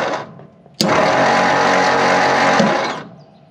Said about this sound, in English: That is a noisy starter.